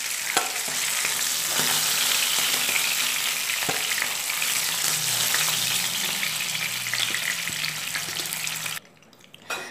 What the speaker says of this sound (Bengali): অপর পিঠটাও আমি একই রকমভাবে লাল করে ভেজে নেব